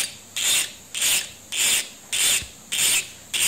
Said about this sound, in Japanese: ダイヤモンドヤスリを使って研磨していきます。